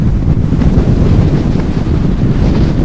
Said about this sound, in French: Un vent de malade